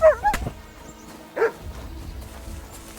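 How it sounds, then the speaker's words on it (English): A dog barks a couple of times in the medieval role-playing game Kingdom Come Deliverance 2, short sharp yelps near the start and another about halfway, over quiet ambient game sound. "Fucking dog."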